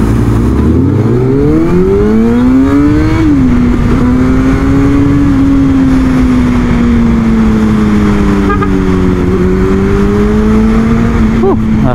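A motorcycle engine while riding, loud and steady, pulling up through the revs then settling into a sustained drone with slight pitch swells, wind noise throughout.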